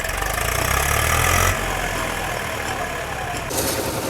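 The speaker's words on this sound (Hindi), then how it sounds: "ट्रैक्टर आया था, ट्रैक्टर फंस गया, अब इससे निकाल रहे हैं धक्का लगा के" A tractor engine runs steadily at close range while the stuck tractor is pushed free at a building site, a loud, rough mid-pitched rumble that shifts slightly in tone partway through.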